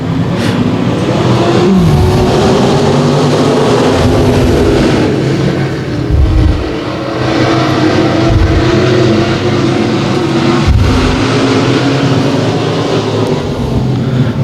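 Race cars in a heat race at Boyd Raceway roar loudly around the track, engines droning and revving continuously with rising and falling pitch as cars pass close by.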